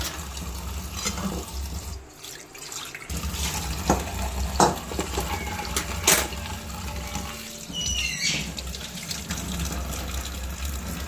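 Cold water pours over boiled, strained food sitting in a basket, a continuous splashing rush with a short pause and several knocks and clatters as the basket shifts.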